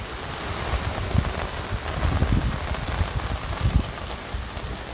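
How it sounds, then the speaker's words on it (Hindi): Heavy stormy rain at night in Canada during a tornado warning, a dense continuous hiss of downpour with rumbling gusts swelling and fading, and no talk. "बहुत तेज़ बारिश शुरू हो गई है,"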